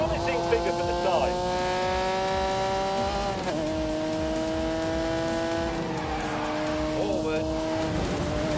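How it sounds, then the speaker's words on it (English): A 5-litre V12 car engine in The Grand Tour video game on PS4 holds a steady, loud drone that rises in pitch, drops abruptly as it shifts gear, and climbs again, with brief tyre squeal in places. "when you unleash this 5-litre V12, it would do 180 miles an hour"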